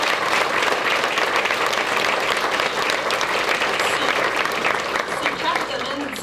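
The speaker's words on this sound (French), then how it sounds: "ils ont vraiment besoin d'un bon rond d'applaudissements pour leur implication ce soir" A crowd gives a long round of applause at the CCIBA tribute awards evening in May 2018. The clapping is thick and even throughout and eases only slightly toward the end.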